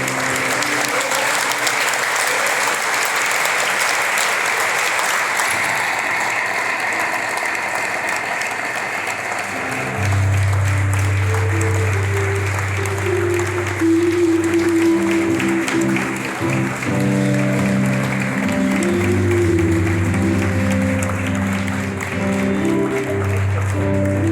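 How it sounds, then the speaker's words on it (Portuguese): Congregation applause at a Catholic consecration service fills the first ten seconds as steady broadband clapping, then gives way to sustained organ or keyboard tones that carry on to the end. "podemos já aplaudir a eles"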